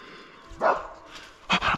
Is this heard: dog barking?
yes